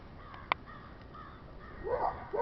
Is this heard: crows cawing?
yes